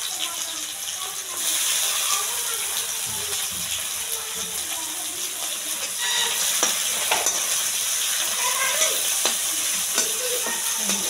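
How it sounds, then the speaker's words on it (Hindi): Onions sizzle and fry steadily in a pan for an egg dish, a continuous close hiss with occasional stirring scrapes and clinks, growing slightly louder partway through. "और प्याज में बस फ्राई होने देते हैं, देखिए यहाँ पर फ्राई होगा"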